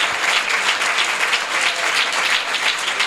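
A church congregation gathered for an Easter service claps loudly and continuously, a dense, even roar of applause filling the whole stretch without any pause.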